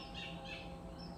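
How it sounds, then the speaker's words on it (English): Faint bird chirps on a morning in Vietnam rise briefly over a low background hum, a few short calls in quick succession from some distance. "you can probably hear the birds chirping"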